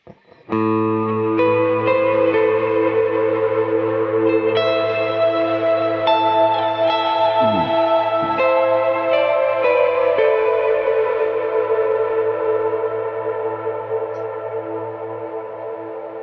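Sustained electric guitar notes through a Kemper Profiler with Cirrus reverb, ringing out loud and smooth in long washed tails with single notes layered over held tones, slowly fading near the end.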